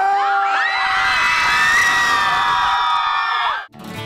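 Concert fans of a band yell and scream together in a loud, sustained roar of cheering and whoops that drops off abruptly near the end.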